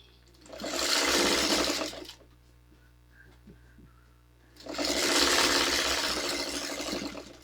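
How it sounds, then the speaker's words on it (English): A sewing machine stitches quilt block pieces together in two steady, whirring runs, close and clear, separated by a quiet pause with faint handling noises. "we're just going to start sewing stuff together"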